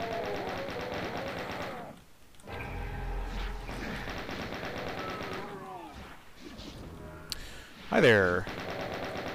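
Rapid gunfire from enemies in the video game Doom rattles in repeated bursts alongside game explosions and effects, with a person talking over the action.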